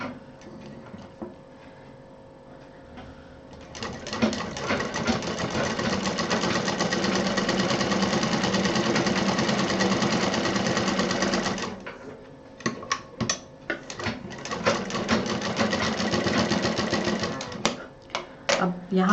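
A sewing machine runs a long continuous double-stitch seam along the belt of a waterproof apron, close and steady for several seconds, then restarts in short bursts with brief pauses between them.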